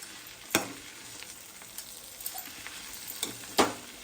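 Bharangi leaf vegetable stir-frying in a pan, a soft steady sizzle broken by a few sharp spatula clanks against the metal as the greens are turned, with no talking.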